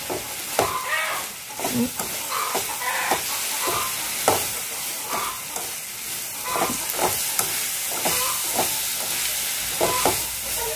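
Fried banana blossom is tossed and stirred with fish sauce in a pan, giving a steady sizzle broken by repeated close scraping and clattering strokes of the utensil.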